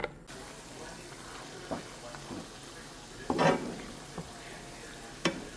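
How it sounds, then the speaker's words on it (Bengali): Blended chana dal paste for halwa is poured into hot ghee and oil in a pan, producing a soft, steady sizzle with a few scattered clinks and a brief stronger burst midway. It is fairly quiet and close, with no voices. "এখন আমি এগুলা ঘি আর তেলের মধ্যে ঢেলে দেব।"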